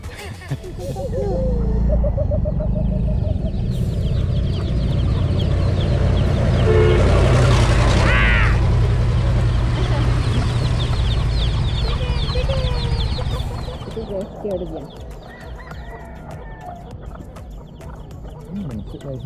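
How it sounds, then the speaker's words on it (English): Chickens cluck and squawk close by during a road trip in San Juan, Siquijor, mixed with loud wind or vehicle rumble and people talking over them. "That's chicken language for hello."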